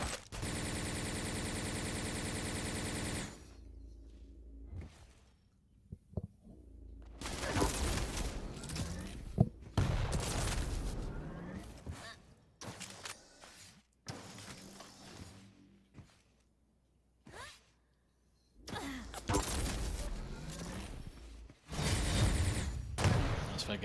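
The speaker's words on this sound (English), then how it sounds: "Machine gun just peppering, dancing past the rockets as well." Rapid machine gun fire in a Quake Pro League match, bursts of sharp shots crackling in dense loud clusters separated by short gaps, with rockets and other weapon blasts mixed in.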